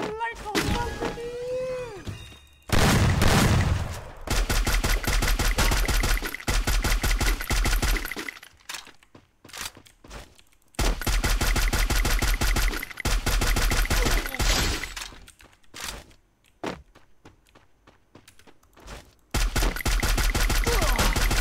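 Rapid bursts of automatic gunfire in the mobile battle-royale game Free Fire, played on an emulator, come in several loud sustained volleys separated by short pauses, with brief speech early on.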